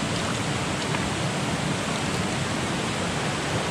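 Water splashing and rushing steadily outdoors by a mountain waterfall, a dense, loud, unbroken wash of noise with no pauses or speech.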